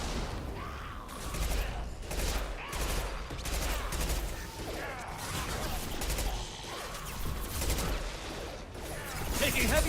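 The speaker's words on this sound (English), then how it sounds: "Taking heavy fire." Dense, sustained gunfire from the video game Mass Effect, with rapid overlapping bursts, crashes and whooshes filling the room at steady loudness, a voice briefly calling out over the fight.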